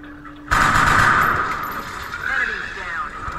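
Gunfire from soldiers in XCOM Enemy Within erupts abruptly after a brief quiet lead-in, a loud sustained burst of shots and rumble that slowly tapers under game noise.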